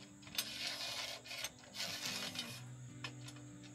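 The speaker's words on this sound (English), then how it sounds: "I'm now installing one of the stop blocks into the top slots of this rail." A stop block slides into the rail slot of a SpeTool Cratos router sled, making faint, close scraping and small clicking mechanical noises in a quiet room.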